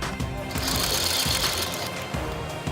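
Sewing machine stitching, likely on leather or fabric in a workshop where decals are cut and lacing is done, a steady mechanical chatter with periodic heavier thumps close up.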